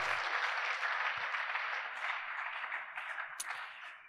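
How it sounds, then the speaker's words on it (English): An audience applauds the presenters at an academic life seminar, a continuous wash of clapping that stays fairly even, then thins and fades toward the end, with no speech over it. "Shall we please give another round of applause for all the presenters"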